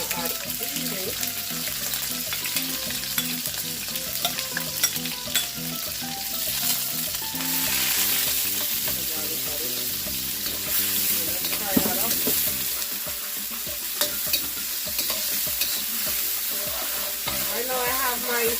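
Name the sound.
vegetables stir-frying in a hot pan on high heat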